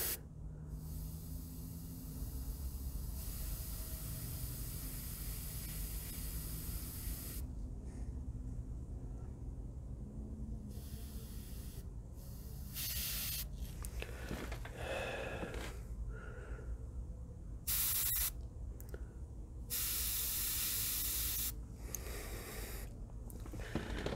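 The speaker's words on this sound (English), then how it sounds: "I don't know why my airbrush isn't cooperating today." An airbrush sprays paint onto a mummy bust in long continuous hissing bursts that start and stop, the spray sputtering unevenly and close to the microphone, with no talking.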